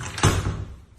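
An Eliot Indianapolis entrance door fitted with a JPM anti-panic bar swings shut under its door closer, ending in a single soft, close thud that quickly fades.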